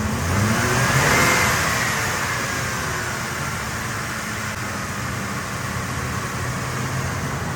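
A Cummins diesel truck engine revs up loudly nearby, then settles into a sustained, rough roar.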